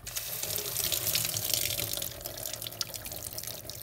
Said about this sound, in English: and then we'll run it through some water.